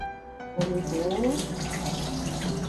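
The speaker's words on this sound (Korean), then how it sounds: "2019년산 겉보리를 물에 씻어서 불리겠습니다" Hulled barley grains from the 2019 harvest are washed in water. Water suddenly starts pouring and splashing into a container and keeps up a steady, close, sloshing rush with no talking.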